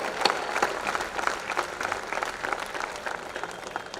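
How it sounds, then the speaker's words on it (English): A convocation audience at Sarvajanik University applauds its graduating students, a continuous wash of many hands clapping at moderate volume, steady and unbroken for several seconds with no voices on top. "give them a big round of applause."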